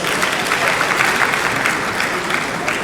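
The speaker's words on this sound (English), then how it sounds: "Please give yourselves a round of applause." Steady, full applause from the audience at an awards ceremony honoring women, a dense, even roar of many hands clapping that holds for about three seconds.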